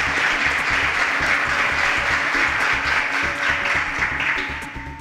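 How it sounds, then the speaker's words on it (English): Studio audience applause for quiz contestants who answered an agriculture question correctly, loud sustained clapping from a crowd with a low rhythmic music bed underneath, tapering slightly at the end. "A round of applause for them."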